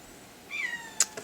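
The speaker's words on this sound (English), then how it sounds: "My cat is meowing." A cat gives a single short, rising meow at close range, followed by a couple of faint clicks in an otherwise quiet room.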